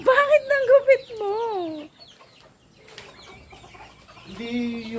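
Chickens clucking in bursts at close range, loud at first, then thinning into quieter scratchy sounds before another cluck returns near the end; no talk.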